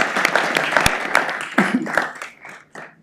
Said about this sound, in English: Give Alina a round of applause for Bubbles.